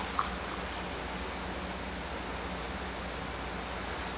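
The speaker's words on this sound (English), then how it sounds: "And we're just gonna pour that brine right back in here." Salt brine is poured back into a jar of fermenting peppers, giving a steady, continuous liquid rush close to the mic. It runs without a break for a few seconds, and no voices are heard.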